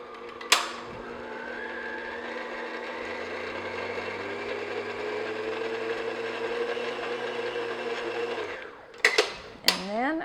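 An electric stand mixer runs steadily on low speed, mixing flour into a strawberry bread batter, a continuous motor whir with a low hum from start to near the end, followed by a few sharp clanks.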